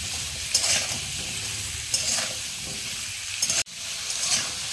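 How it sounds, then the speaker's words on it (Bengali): Potatoes and papaya fry in a pan with turmeric and salt, giving a steady close sizzle with scraping stir strokes and a sharp knock near the end. "আমি আলু আর পেঁপেটা ভালো করে একটু ভেজে নেব।"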